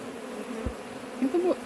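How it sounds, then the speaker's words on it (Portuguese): Bees in a wooden stump hive close to a house, giving a faint, steady buzz with a few brief louder tonal drones from individual bees flying near. "Tem muita abelha embaixo. Muita abelha."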